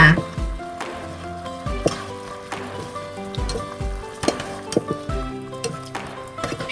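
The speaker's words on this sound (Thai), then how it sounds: "หลังจากเติมทุกอย่างลงไปแล้วผัดเลยนะคะ ผัดรวมกันเลยค่ะ" Mixed vegetables with pork meatballs stir-frying in a hot pan, with a sizzle under repeated rhythmic clanks and scrapes of a utensil against the pan.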